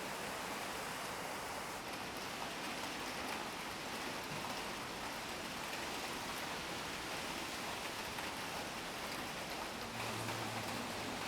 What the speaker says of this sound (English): There's scarcely a day without at least one heavy shower.